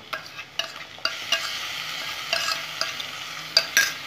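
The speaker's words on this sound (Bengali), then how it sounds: "পেঁয়াজ বাটাটা দিয়ে দেবো" Onion paste fried in a pan for a boneless chicken dish gives a soft, quiet sizzle punctuated by sharp scrapes and clicks of a spoon stirring, close up and without any speech.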